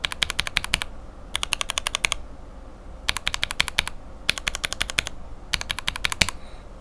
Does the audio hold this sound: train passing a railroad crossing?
no